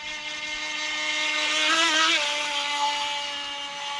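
A cheap RC boat's small electric motor whines steadily as it runs across water, rising slightly in pitch and loudness while turning, then continuing at a constant buzz.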